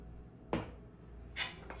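A large spoon clinks sharply against a bowl while extra virgin olive oil dressing for a Caesar salad is mixed, with two or three brief bright taps spaced apart, close and fairly quiet.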